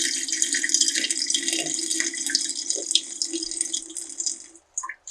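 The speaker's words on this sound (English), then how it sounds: "You can pour out the water." Water pours steadily from a container of soaking tomato seeds into a sink, a continuous splashing stream that tapers off near the end with a few last trickles; no one talks.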